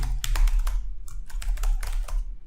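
Quick bursts of clattering keystrokes on a computer keyboard, typed in two rapid runs with a short pause between, close and crisp with no talking.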